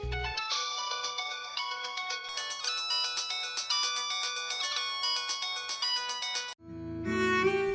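A mobile phone rings with a bright, melodic electronic tune that repeats steadily for several seconds, clear and near, ending with a short change in tone, in a Telugu TV drama scene.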